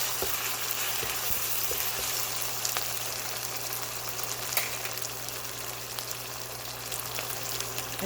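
Cabbage and beets with spices frying in a pan for an Ethiopian vegan dish, a steady continuous sizzle with soft crackles and occasional stirring, close and even throughout with no talking.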